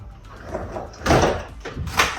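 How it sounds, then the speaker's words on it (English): Sliding ventilation doors on a home opening glide apart in several rolling, rumbling strokes, each ending with a firmer thump, close and fairly loud, with no talking. "What you will see is that these doors separate and slide for ventilation."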